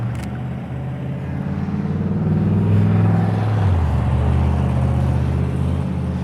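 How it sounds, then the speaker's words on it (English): Steady stream of cars and trucks on a busy road, a loud continuous engine rumble and tire whir that swells as a heavy vehicle passes close by, with no talking. "When there's so many cars and trucks and everything driving around"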